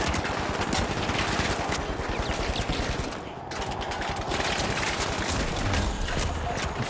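Rapid automatic gunfire from an enemy turret in the video game The Finals, a dense sustained clatter of shots that dips briefly midway, then resumes loud and continuous.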